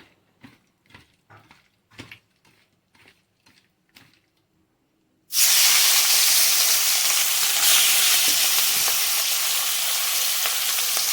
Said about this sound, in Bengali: এই যে কড়াতে তেল গরম হয়ে গেছে মাছগুলো ভেজে নেবো প্রথমে